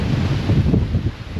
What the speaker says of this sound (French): Grosse tempête de sable, de vent.